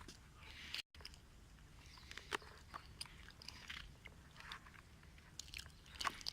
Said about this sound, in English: Okay, let's eat.